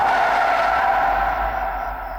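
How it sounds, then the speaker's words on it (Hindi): A car braking hard to a stop, a sustained screech of skidding tires that fades slightly toward the end, heard up close and without talk. "स्टॉप स्टॉप, गाड़ी रोको।"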